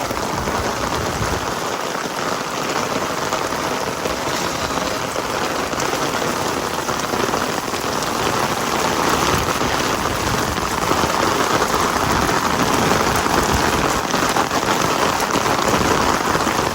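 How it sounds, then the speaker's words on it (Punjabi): Heavy rain pours steadily and loudly throughout, a dense hiss of drops drumming on surfaces with no pauses or voices. "ਬਹੁਤ ਤੇਜ਼ ਮੀਂਹ ਆ ਬਾਈ"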